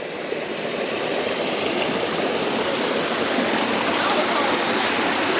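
Water trickles steadily from a rock pool at a mountaintop forest temple in Ubon Ratchathani, Thailand, a continuous close hiss of flowing water with no break.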